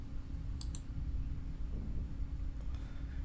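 A pair of quick mouse clicks on a website menu, then a fainter click a couple of seconds later, over a low steady hum.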